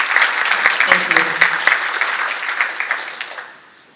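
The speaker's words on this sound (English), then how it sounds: "Round of applause, please." A conference audience claps loudly and continuously for a few seconds, with some voices mixed in, before the applause fades out.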